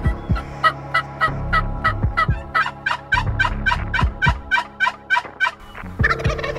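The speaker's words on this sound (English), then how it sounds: "Hey, I've got turkeys gobbling back there and they're fired up." Wild turkeys gobbling during a spring hunt in Oklahoma or Kansas, a steady run of loud, repeated rattling gobbles from several birds, close and overlapping, with no talking.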